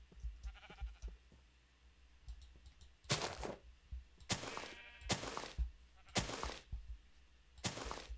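Sheep in a video game bleat five times in short, evenly spaced cries, clear and fairly close, over quiet soft clicks and ambient game sound.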